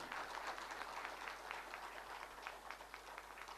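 A crowd at a live Mithila cultural festival event in Ahmedabad claps to welcome a guest, a fairly quiet, distant patter of many hands that stays steady and continuous throughout.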